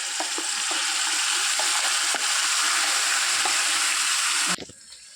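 Loud, hissing sizzle of cumin, mustard seeds, sliced dried red chillies, curry leaves and turmeric hitting hot oil, crackling continuously with a few small pops, then cutting off abruptly near the end.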